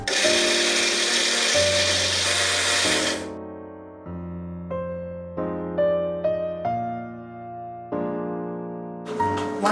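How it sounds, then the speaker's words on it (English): A kitchen blender jar whirs through spices, black salt, cardamom powder, mustard oil and marinade, a loud steady motor drone that shifts pitch as the mix thickens, cutting out and restarting in several short bursts. "All goes in the blender jar"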